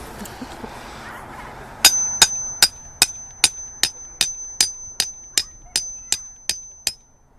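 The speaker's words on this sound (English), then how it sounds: "So you want to just go ahead and pound that right in." A run of evenly spaced, ringing metallic hammer blows pounding a garden trellis stake into the ground, about fourteen strikes with a bright clang, following a moment of quiet rustling.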